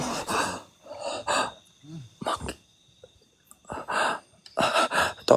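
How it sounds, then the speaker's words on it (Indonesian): Man panting heavily in short, ragged bursts of breath, gasps and sighs, close and fairly loud, with quiet pauses between the breaths during a night ghost-hunting trip to a haunted river estuary. "Kenapa ngos-ngosan, Pak Lurah?"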